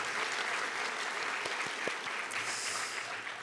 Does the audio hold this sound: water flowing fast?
no